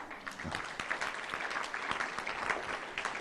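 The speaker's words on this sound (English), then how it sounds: "if you guys would just applaud a little bit louder than you did for Jay" A room of attendees at a curriculum leaders' meeting claps for a few seconds. The applause is moderate and somewhat distant, with individual sharp claps standing out in an uneven patter.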